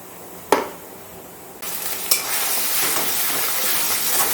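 A ginger, garlic and onion paste drops into hot oil with a sharp clank, then a sizzle breaks out and settles into a continuous frying hiss, with a second spoon knock as it gets stirred.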